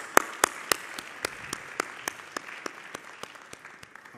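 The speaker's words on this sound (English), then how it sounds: "Let's give these guys another round of applause." Applause from a school assembly audience, opening with a few sharp, distinct claps that thin out into lighter, evenly spaced claps as the clapping winds down.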